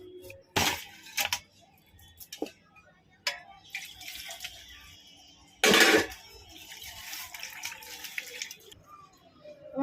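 Water from a kitchen tap splashes and runs intermittently as large prawns are rinsed by hand in a sink, with sharp splashes and clinks of a bowl, close and uneven, with a little talk.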